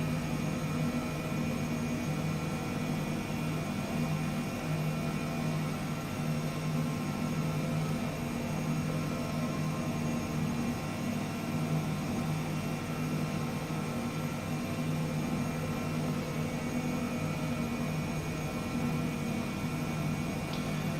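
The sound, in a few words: H135 helicopter descending, from video game Microsoft Flight Simulator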